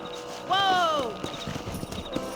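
A horse in the video game Red Dead Redemption gives a bright neigh, and then its hooves thud in a quick, uneven run of beats at moderate distance.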